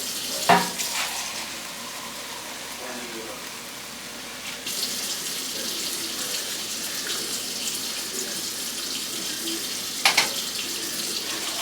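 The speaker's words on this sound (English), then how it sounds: "Let's get some more water." Tap water runs steadily into a sink or pan while gravy is being started in a frying pan, a soft continuous hiss with a few clinks and light kitchen handling sounds.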